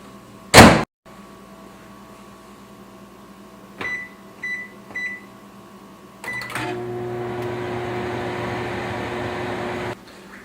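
A microwave oven heating a bowl of vinegar starts with a loud clunk and a few beeps, then hums steadily for several seconds before stopping.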